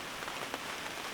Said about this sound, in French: Bon, mais la pluie revient, hein, clairement.